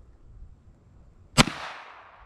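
A pistol fires a single mini shot shell loaded with snake shot, one sharp loud report followed by a short decaying echo, with nothing else heard around it.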